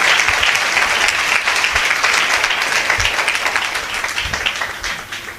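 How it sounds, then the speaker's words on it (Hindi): Steady applause from a church congregation at a Hindi-language sermon, dense and sustained throughout, fading slightly toward the end, with no speech over it. "वचन के प्रेमी तालियां बजा रहे थे"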